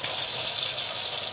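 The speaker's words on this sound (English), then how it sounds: "That's why we need our cold water" Cold water gushes steadily onto a hot, smoking metal part, a bright continuous hiss and splash that stays loud and even throughout without pauses or talk.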